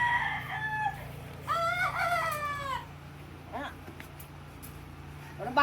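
A well-fed rooster crows loudly in two drawn-out calls, followed by a few short clucks, close by against a quiet background hum.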